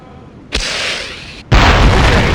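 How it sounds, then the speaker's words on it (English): In Conflict: Desert Storm 2, a rocket launches with a sharp whooshing burst and hisses in flight, then strikes a tank with a loud, booming explosion about a second later that rumbles on. "Now launch your rocket at the tank."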